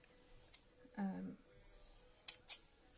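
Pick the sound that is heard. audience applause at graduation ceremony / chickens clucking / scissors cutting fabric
scissors cutting fabric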